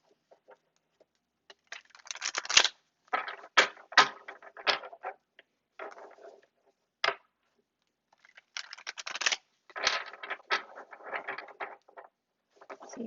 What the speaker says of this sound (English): Now let's go ahead and shuffle these cards.